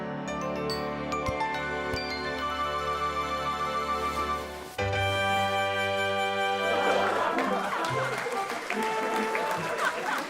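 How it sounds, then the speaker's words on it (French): A cartoon crowd cheers and applauds for a young boy's magic tricks at a show, a dense roar of clapping and shouting that swells over sustained music. "La foule s'est déchaînée pour les tours de Caillou."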